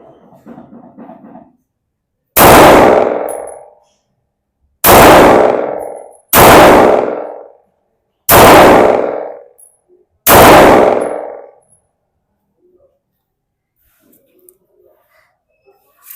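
Five loud, sharp gunshots from a small Kral Amrs KR9 back-up pistol being test fired, spaced a second or two apart and each with a short decaying tail, after a moment of faint murmur and before quiet.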